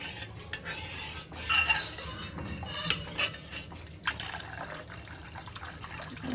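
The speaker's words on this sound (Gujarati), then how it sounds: "અહીંયા સરસ પાણી અને ગ્રેવીને આપણે હવે સરસ રીતે મિક્સ કરીશું" Water is stirred into a gravy in a cooking pot with a utensil, producing continuous close scraping and liquid swishing, with clinks against the metal and a few sharper knocks.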